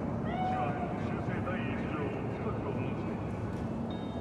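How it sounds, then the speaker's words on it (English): A cat meows a few times, short and fairly close, in the game Cyberpunk 2077, amid a low ambient wash, with spoken dialogue around it. "Just a cat."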